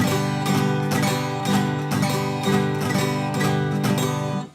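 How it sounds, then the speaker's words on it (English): An acoustic guitar strummed in rigid, evenly spaced strokes, each chord struck hard and ringing briefly, repeating steadily for several bars. "when you strum the guitar, it sounds like this"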